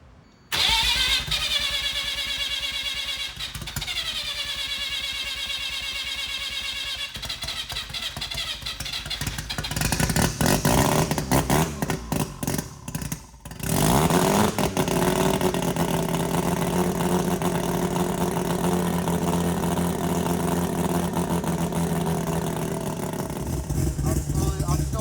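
A Mazda RX-7 rotary racing engine cranks and fires, then revs up and down before settling into a loud, lumpy idle, close and continuous, with brief pauses between attempts and people talking nearby.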